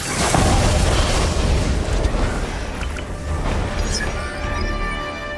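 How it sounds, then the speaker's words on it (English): Explosions and weapon fire as Breen fighters attack the starship Discovery in a Star Trek Discovery trailer scene, a dense, loud, sustained rumble of booms and blasts with a sharper burst near the end. "the Discovery is about to be attacked by a whole bunch of Breen fighters"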